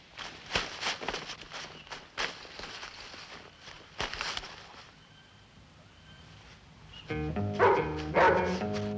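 Several dogs bark and yip in a loud, chaotic burst with footsteps and scuffling, then settle briefly before more excited yapping rises near the end; no speech.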